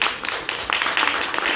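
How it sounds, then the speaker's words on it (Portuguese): Audience applause at an Afro-Brazilian terreiro community gathering in a cultural centre, a dense, steady patter of many hands clapping throughout, fairly loud and close. "salva de palmas"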